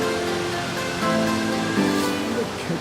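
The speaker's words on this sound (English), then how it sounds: "The waterfall." Steady broadband roar of a waterfall on a big river beside a cathedral in Central America, continuous and fairly loud with faint tonal hum underneath and no clear talk.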